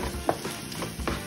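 Tomatoes cook in butter in a pan with a soft sizzle, broken by a few quick stirring scrapes, close and moderately quiet.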